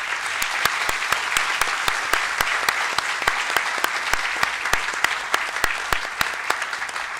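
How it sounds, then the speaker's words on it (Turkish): An audience applauds at a medical school conference on artificial intelligence in healthcare. The clapping is sustained and fairly loud, with sharp, regularly spaced claps standing out over a dense wash of hands that continues at a steady level. "Erken alkış yaptım."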